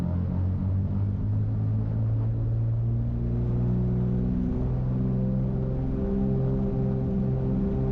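A light aircraft's piston engine drones loud and steady at full throttle during the takeoff roll, a continuous deep harmonic hum with a slight rise in pitch; no voices.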